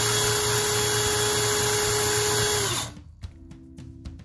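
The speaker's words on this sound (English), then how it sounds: "So here is the drill without any gears. It's just a plain old drill." A plain power drill without gears spins a LEGO wheel with a loud, steady motor whine, then winds down and cuts off, leaving faint clicks and rattles.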